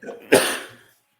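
One close, loud sneeze erupts indoors, a short sharp burst with a breathy tail that fades within about half a second.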